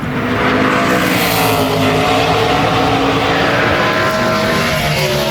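A NASCAR Cup race car on a qualifying lap at Richmond International Raceway, a loud continuous high-revving engine roar that stays steady and close, with no talk.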